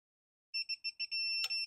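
A torque adapter on a 3/8 Craftsman click torque wrench gives a quick series of short electronic beeps that run into a longer sustained tone, with a sharp click near the end, clean and close.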